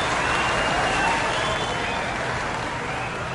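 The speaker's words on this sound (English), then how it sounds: "They clapped, so I guess they liked it." Audience applause at a live concert, a dense, steady wash of clapping and crowd noise that fills the whole stretch at an even level.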